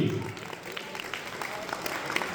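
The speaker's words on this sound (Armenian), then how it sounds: "Բրավո, ծափարությունները Աշոտի" Applause at a gathering after a toast for Ashot, a steady patter of clapping from a small group with a voice talking over it.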